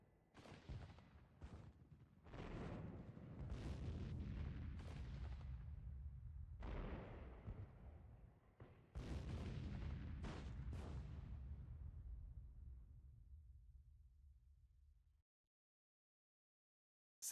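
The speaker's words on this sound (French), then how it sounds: "Les canons reçoivent l'ordre de tirer." Fortress cannons fire a barrage of artillery shells in rapid succession. The booming blasts overlap into a dense, rolling roar before they fade into a long decaying rumble.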